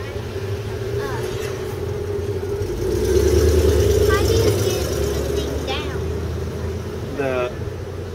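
The engine of TIV2, a tornado intercept vehicle, runs with a steady, loud, low drone inside the cabin. The rumble swells slightly midway, and voices talk over it.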